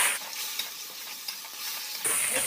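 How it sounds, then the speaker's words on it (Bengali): Water poured into frying spice paste of green chilli and coriander-cumin in a pan, a loud steady hiss of sizzling that flares up sharply again near the end. "মশলাটা যাতে না পুড়ে যায় দিয়ে দেবো একটু জল।"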